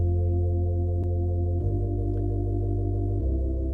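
A sustained keyboard chord rings steadily, shifting slightly in tone partway through, with no voices.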